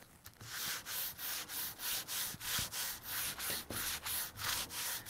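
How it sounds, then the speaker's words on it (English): Repeated back-and-forth strokes of 150-grit sandpaper on a wooden model airplane part, a steady rhythmic rasp of about ten even passes, close and fairly quiet, with no voices. "I'm using about 150 grit sandpaper on this."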